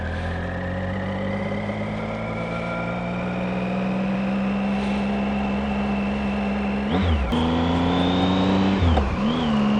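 Motorcycle engine running steadily while riding on a cold day, a loud continuous hum with a couple of quick revs and gear changes near the end, no talking.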